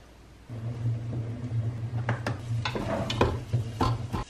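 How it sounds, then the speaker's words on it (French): Onions and garlic browning in a pot give a low, steady sizzling hum, with occasional scraping and clinks from stirring, close up and without talk. "Pendant que mes oignons rissolent"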